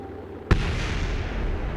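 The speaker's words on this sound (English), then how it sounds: "There's the explosions I like to hear." A single sharp explosion booms close and loud in the video game Kerbal Space Program, then gives way to a sustained low rumbling roar that carries on to the end.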